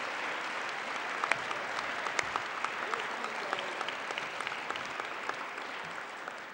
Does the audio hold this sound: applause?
yes